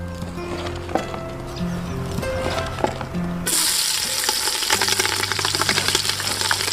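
Tomatoes tipped into hot oil with green chillies in a village kitchen, the pan jumping into a loud, steady sizzle partway through after quieter clatter and cooking noises.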